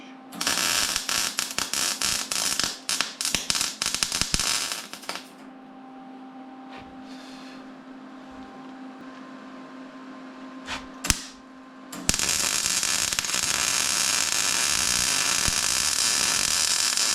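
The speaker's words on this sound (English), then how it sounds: "let's go ahead and weld the back" Welding on a Yamaha G1 golf cart produces bursts of harsh, crackling buzz close up, separated by a quieter stretch with a low hum, then resuming as a steady loud sizzle.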